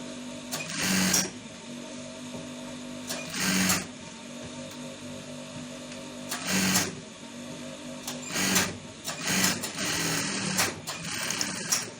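Sewing machine stitching down a V-neck on a senator top, running in several close, loud bursts of rapid whirring separated by short pauses, with no talk.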